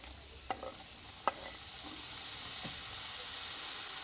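Nimki dough pieces fry in hot oil with a soft, even sizzle and a few light clicks early on, fairly quiet and steady throughout with no voices.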